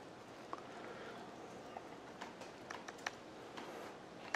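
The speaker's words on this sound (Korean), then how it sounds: "쉽지가 않죠? 타이핑하기가." Quick, irregular clicks of keys on a computer keyboard, light and close, tapping in short uneven bursts over a quiet room hiss with no talking.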